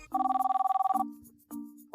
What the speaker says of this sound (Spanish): Le llamaré a Tlali.